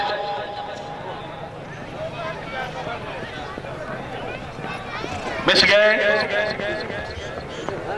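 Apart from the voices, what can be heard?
racehorse galloping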